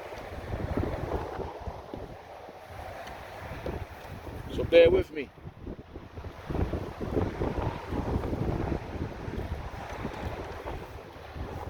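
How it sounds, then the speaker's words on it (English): Rough, uneven wind buffeting the microphone, rumbling low and steady throughout, with a person talking over it and a brief louder gust midway. "And the air is gusty right now."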